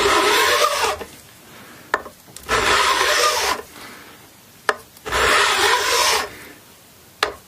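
A hand tool rasps along the neck of a Vintage (by JHS) Flying V copy guitar during a fret setup, three long loud scraping strokes separated by pauses and sharp clicks.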